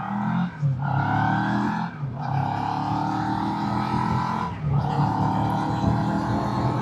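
A CF Moto 700MT adventure motorcycle ridden slowly for a low-speed handling test, its twin engine droning steadily with small throttle changes and brief dips in pitch, close and continuous with no talking.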